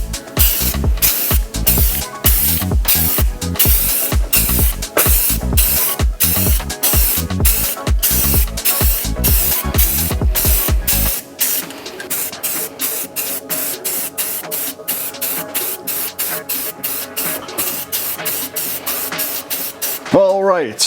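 Clear coat paint is sprayed onto a car valve cover in repeated short bursts, loud hissy puffs at first, then lighter and quieter ones in a steady rhythm.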